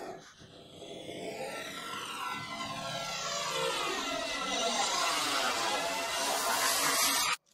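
A synthesized rising sound effect sweeps steadily upward over about seven seconds, passed through an automated Haas delay and stereo widener so it starts centered and spreads very wide, loud and dense, then cuts off abruptly.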